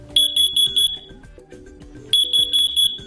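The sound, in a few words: carbon monoxide alarm chirp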